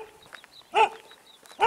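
A dog barks twice, two short, sharp barks spaced about a second apart, fairly close and loud against a quiet outdoor background.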